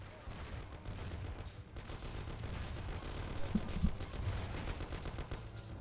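Sustained gunfire in the video game Mafia: The City of Lost Heaven, with dense, continuous bursts of shots over a steady low rumble and no talk.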